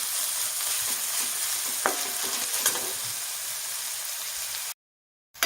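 Onions fry and are stirred in a pan for Kolhapuri misal, with a continuous close sizzle and occasional scraping strokes of a spoon. The sizzle cuts off abruptly into silence near the end, with no voices.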